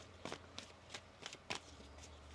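Tarot cards riffled in a few quick, crisp bursts spaced about a third of a second apart, close and fairly quiet against a low steady hum.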